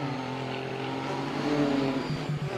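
Race cars in an RWC sprint race at Imola, engines droning and rising steadily with layered harmonics as a pack closes in, loud and continuous without a break.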